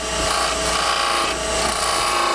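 A small homemade skew chisel scrapes steadily against a turning wooden bead on a lathe, cutting V-grooves in a continuous rough, raspy hiss with no talk over it.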